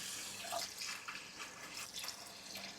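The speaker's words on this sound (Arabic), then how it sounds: "وراح نخلي 8 قلاصات من المي،" Water runs from a tap into a pot while preparing Iraqi-style rice soup, a soft, close splashing and trickling stream with slight fluctuations over a few seconds.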